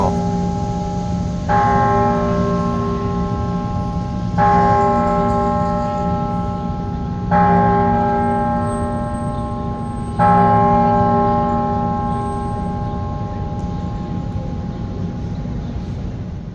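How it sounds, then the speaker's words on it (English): The bell at Independence Hall tolls four times at roughly three-second intervals, each deep, resonant strike ringing out and slowly decaying into the next, with no voices. "That's the bell at Independence Hall."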